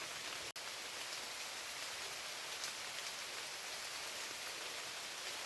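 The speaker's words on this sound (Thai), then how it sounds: "ตอนนี้ก็ฝนตกแล้วนะทุกคนนะ" Steady rain falls beside a cliff edge in the forest, a dense even hiss of drops that continues throughout, with one sharp click near the start and no voices.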